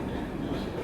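A train rolls into Karjat station aboard the Udyan Express on the Mumbai–Pune line during the monsoon, giving a close, steady low rumble of wheels and carriages heard from inside, with faint background voices.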